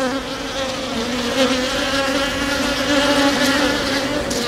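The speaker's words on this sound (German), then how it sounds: "es sind keine schweren Bienen, die zurückkommen. Die fliegen einfach nur." A dense, steady buzz of many honeybees flying close at a hive entrance, droning continuously and fairly loud throughout.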